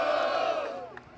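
A crowd at a street rap battle roars and shouts in a brief, loud collective yell that fades quickly within about a second.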